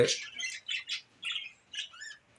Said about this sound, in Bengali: অনেকগুলো বাজিগার, প্রায় প্রত্যেকটার ভিতরেই বাজিগারই।